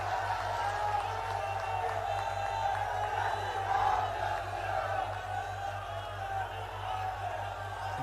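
A crowd at an outdoor political rally in Amethi, Uttar Pradesh, applauds and cheers steadily for the full stretch, a dense wash of clapping with scattered whoops and a low constant rumble beneath.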